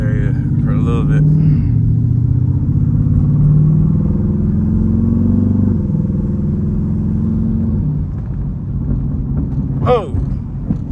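A Jeep Trackhawk with its supercharger removed drives on wet roads in the rain, its engine a loud, steady low rumble from inside the cabin, while a person talks over it.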